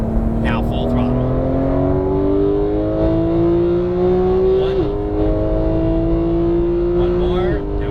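Porsche 911 GT3 of the 991 generation at full throttle on a cone course, its engine note rising steadily in pitch with two brief dips at upshifts, loud and close, with an instructor talking over it.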